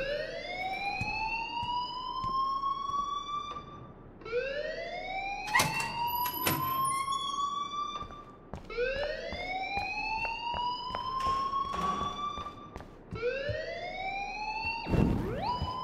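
A repeating electronic alarm in the video game Life is Strange, each rising, whooping sweep lasting about four seconds and cycling continuously and loudly with no talk over it.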